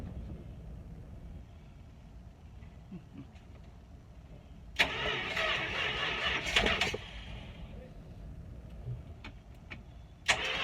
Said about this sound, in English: battery's connected, and I'm gonna crank it